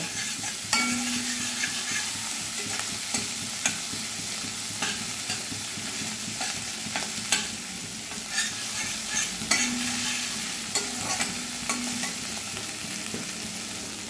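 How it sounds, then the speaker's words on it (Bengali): Grated ginger and broken green chilli fry in hot oil while being stirred, making a constant crackling sizzle broken by repeated spatula scrapes and taps against the pan, close and fairly loud. "আর আদাটা একটু ভেজে নেব"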